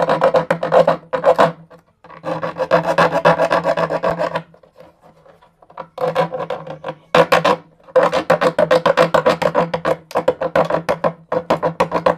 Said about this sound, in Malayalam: ആക്സോ ബ്ലേഡ് എടുക്കുക കട്ട് ചെയ്ത് കൊടുക്കുക